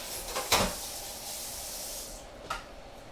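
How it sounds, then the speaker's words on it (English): Two short hissing bursts from a cleaning spray bottle in a home kitchen, the first near and louder, the second about two seconds later and fainter, over steady background noise. "So I'm just gonna go ahead and give this a little spray. Keep everything nice and clean while we got the time."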